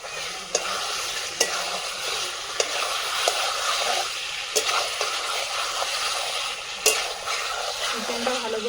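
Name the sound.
chicken sizzling while being sautéed for biryani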